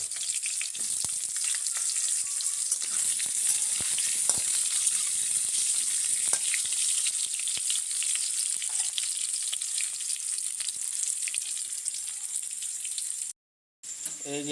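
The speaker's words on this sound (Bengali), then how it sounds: "একটু লাল লাল করে ভেজে নেব" Potatoes frying in a pan until reddish-brown, with a steady close hiss and crackle of oil running throughout, broken only by a brief silent gap near the end.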